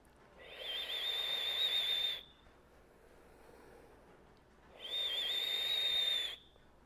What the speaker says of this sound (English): when you inhale, you are going to make the sound of a whistle.